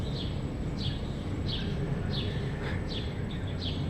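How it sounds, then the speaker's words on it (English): Birds chirp in short repeated bursts, roughly every half second, over a steady low outdoor rumble on the Red Hook waterfront in Brooklyn, moderately distant and clear. "you can hear the birds"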